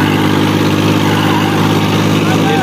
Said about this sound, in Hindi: देखते हैं ट्रैक्टर निकल रहा है